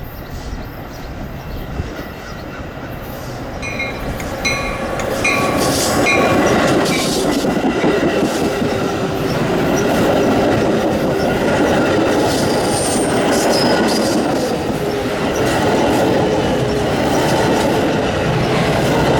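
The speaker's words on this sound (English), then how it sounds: "we got a metro train powered by" A Metra commuter train hauled by locomotive 210 rumbles past on BNSF's Chicago line with a steady roar, rising in loudness, with high-pitched wheel squeals and faint clicking of wheels on track.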